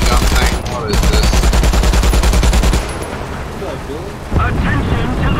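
Quad machine gun vehicle firing in War Thunder, loud rapid bursts of automatic fire in a dense rattling stream, pausing briefly before another burst, with the engine rumbling between.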